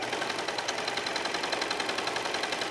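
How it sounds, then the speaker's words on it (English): A serger sewing machine feeds fabric through its stitching, giving a quick, even mechanical whir and rattle at a steady pace. It is fairly quiet and close, with no voices. "I'm allowing the serger just to feed the fabric."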